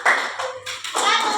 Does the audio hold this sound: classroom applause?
yes